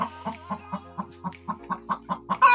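Hens clucking inside a lit coop during egg collecting, a steady series of about a dozen short rhythmic clucks, close and clear, with a faint low hum underneath.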